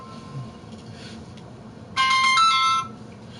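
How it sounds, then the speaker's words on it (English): A phone ringtone for an incoming call chimes for about a second, bright and fairly loud, cutting in over a low steady background hum before stopping. "oh Leslie, I got a phone call like right as you called me up."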